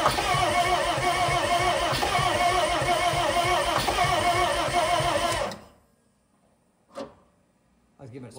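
A revived 24V end loader with a P-pump diesel engine runs at a steady, even mechanical drone, then cuts off abruptly, leaving near silence broken by a couple of faint knocks.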